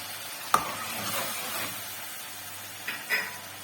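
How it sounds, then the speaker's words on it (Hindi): Spice masala with onion and yogurt fries in a karahi over a high flame, a soft, low sizzle broken by a few sharp clinks and scrapes of stirring against the pan. "अब आप हाई फ्लेम पे इसको 10 से 15 मिनट अच्छी तरह से भून लें।"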